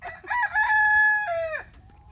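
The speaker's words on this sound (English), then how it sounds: "I've got something like 20 roosters, and I've got 10 of them in the yard right now." A rooster crows once, close and loud, in a backyard flock of chickens and roosters kept in coops during winter, the call rising into a long held note that breaks off at the end.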